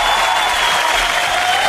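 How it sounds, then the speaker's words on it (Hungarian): Brief, dense clapping and a little cheering fill a radio studio on a morning show, a sustained burst of applause heard up close without talk. "itt egy tapsot is minden korán kelőnek"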